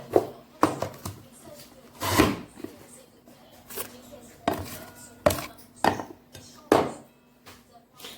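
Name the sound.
potato pressed through a fry cutter to make fries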